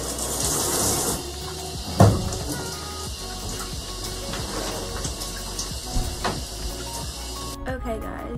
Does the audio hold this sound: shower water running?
yes